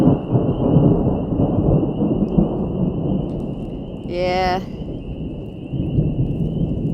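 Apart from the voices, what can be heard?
thunder and rain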